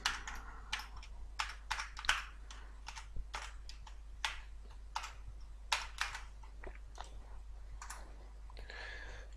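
Fast, steady typing on a computer keyboard while coding in JavaScript, with crisp close key clicks in irregular bursts and brief pauses, quiet and with no voices.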